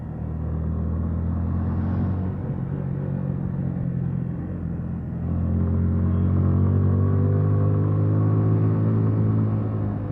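A motorcycle engine drones steadily in second gear on a mountain road toward Keokradong, a loud continuous rumble that rises slightly in the second half without revving sharply.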